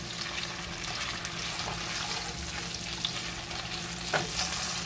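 Potatoes seasoned with salt and garlic sizzle and crackle in a frying pan as they are tossed, a continuous loud frying hiss with scraping stirs and a brief clatter near the end, no talking.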